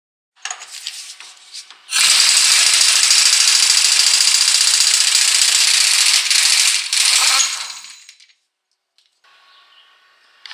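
A tool whirs loudly and steadily for about six seconds while removing the 36mm front axle nut on a Jeep Cherokee during a wheel bearing replacement, then stops. Fainter mechanical noise follows.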